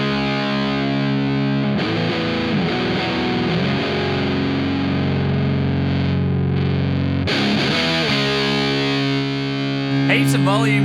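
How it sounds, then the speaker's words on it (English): A heavily distorted electric guitar through a Rat-style distortion plugin plays sustained, gritty chords and notes at loud volume, with shifts in tone partway through and no one speaking. "Cool, let's boost up the distortion,"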